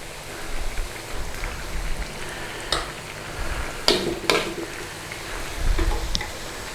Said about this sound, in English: So let's get our beef in our oil.